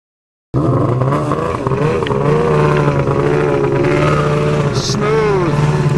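A snowmobile engine drones loud and close as it pulls a load of firewood through remote snowy wilderness, starting abruptly and holding a steady, strong tone with slight pitch shifts.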